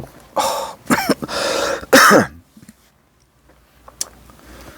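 Several harsh coughs and throat clearing in quick succession, close by, followed by quiet with a faint tick or two.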